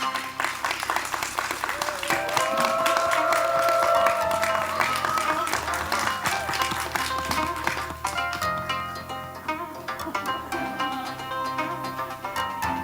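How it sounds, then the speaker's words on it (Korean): A crowd applauds steadily while music plays and someone talks over the clapping, at a Korean TV drama press conference photo session. "여러분 큰 박수로 맞아주시면 감사하겠습니다"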